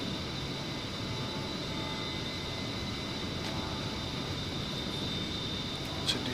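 Steady, continuous jet engine drone of an A-10C Warthog in the DCS flight simulator, an even unbroken roar with a faint high whine and no talk.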